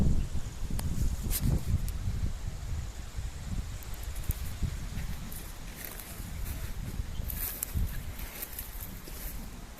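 Strong wind gusting through a mango orchard, with a steady broad rush and bursts of rustling leaves and branches close by, the wind buffeting throughout.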